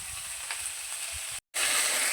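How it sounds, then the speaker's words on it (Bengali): Cauliflower frying in a pan gives off a close, steady hissing sizzle, briefly cut off by a short gap before it resumes. "সবজিটা দিয়ে আমি ভাজছি"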